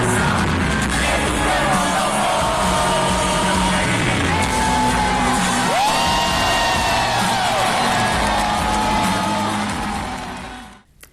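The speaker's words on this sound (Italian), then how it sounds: "un'esplosione di fuochi d'artificio e applausi" A large concert crowd cheers, yells and whoops loudly and continuously amid fireworks, a dense roar that fades out at the very end.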